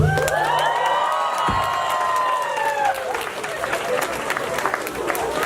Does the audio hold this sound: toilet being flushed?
no